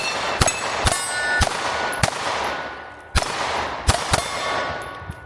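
A Shield X or P365 XMacro pistol fired quickly at steel targets outdoors, about eight sharp shots in an uneven rapid rhythm, each followed by a ringing metallic clang, nearby and loud with no talking.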